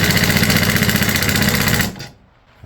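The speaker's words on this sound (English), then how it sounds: "I'm just going to take this socket with a wood screw down through it." Power drill driving a wood screw through a socket on an RC crawler build, a loud, steady close-up whir that stops abruptly near the end.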